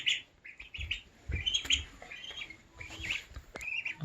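Young ducks peck at chopped lettuce, giving off high, thin chirps and peeps in short irregular bursts, close by, with soft pecking and rustling underneath.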